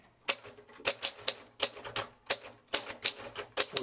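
A 1941 Royal Aristocrat manual typewriter typing in a steady, close run of sharp key strikes, with irregular rhythm and brief pauses between bursts, heard alone.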